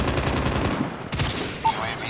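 Bursts of automatic weapon fire in the mobile shooter Call of Duty Mobile, a steady rattle of shots that breaks off midway, then a sharper crack and fainter firing trailing behind.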